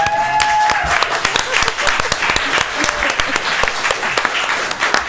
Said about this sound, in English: There's some deaf applause here